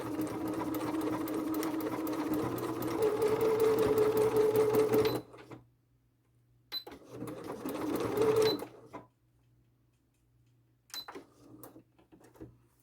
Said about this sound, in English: now I'll finish up sewing the other side of the tree trunk